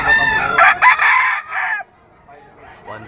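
A rooster stag crows loudly and close at a weekend pet market in Malabon, one long strident call that cuts off sharply, followed by quieter market murmur.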